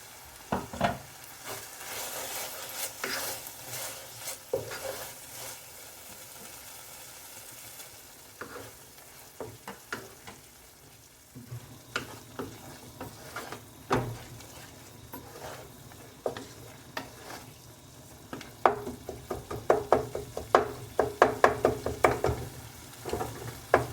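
Masala cabbage and potatoes cook in a pan over medium heat for cabbage-potato tacos, with a continuous close sizzle broken by frequent spatula scrapes and stirring knocks that grow denser and louder toward the end.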